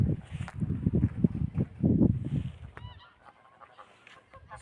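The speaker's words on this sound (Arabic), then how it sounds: "سرب من البط الاوز العراقي" A flock of Iraqi geese in a marsh honks loudly and repeatedly in a rapid, overlapping chorus, close by, then quiets to a few fainter calls and rustling.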